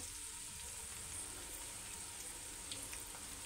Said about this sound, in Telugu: వేసుకొని అది కూడా కొంచెం వేగనిద్దాం ఆయిల్లో